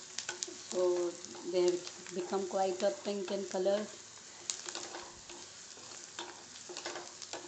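Onions roasting on a very high flame for Mumbai-style black pav bhaji, a steady sizzle with scraping stirs running throughout, partly under a nearby voice talking.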